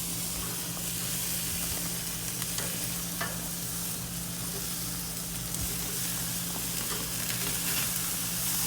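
Pork chops sizzle steadily on a grill while being flipped, a dense continuous frying hiss with faint clicks and scrapes, close and even throughout with no voices.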